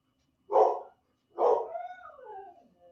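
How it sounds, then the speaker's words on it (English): Two dogs bark in short, loud bursts close by indoors, one sharp bark followed by a longer bark trailing into a whine. "sorry about the dogs."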